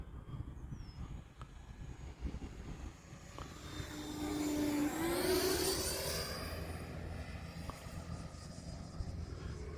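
An E-flite 90mm Viper RC jet with electric ducted fan flies past in wind, its whine rising and sweeping in pitch as it closes in, loudest near the middle, then fading as it pulls away.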